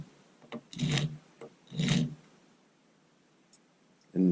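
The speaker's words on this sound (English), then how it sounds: "putting the magazine down lightly on the sandpaper, tilt it up to about 45 degrees, and just give it a couple of strokes" Feet of a coin magazine being sanded on sandpaper, two distinct close rasping strokes followed by a light tap and a third short scrape, with no talking.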